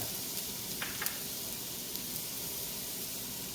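Chopped onion sizzling in a pan while cooking egg curry, a soft steady hiss with a few faint clinks, quiet and close.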